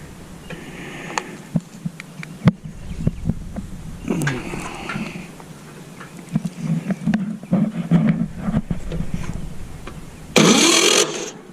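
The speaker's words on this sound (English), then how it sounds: "see if it'll spin over with the starter" The 1955 GMC engine pulled from a fire truck cranks over on its starter in several short bursts, ending in a longer loud churning run, with people talking nearby.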